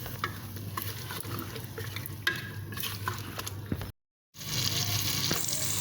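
Tamarind water hits hot frying masala in a pan with a steady crackling sizzle and soft stirring scrapes. The sizzle cuts out briefly near the end, then resumes just as strongly.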